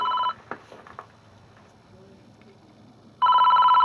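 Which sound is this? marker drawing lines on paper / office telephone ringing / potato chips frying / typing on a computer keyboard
office telephone ringing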